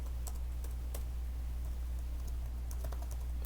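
Computer keyboard typing while coding in JavaScript: a run of irregular, close-up key clicks in quick bursts and pauses over a low steady hum, with no one talking.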